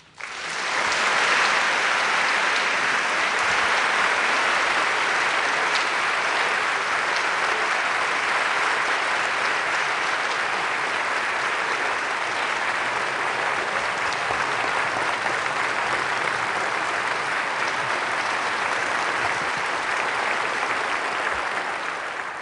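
A large lecture audience claps steadily and loudly to welcome Professor Randy Pausch to the stage, a dense, sustained wash of applause lasting over twenty seconds with no voices on top.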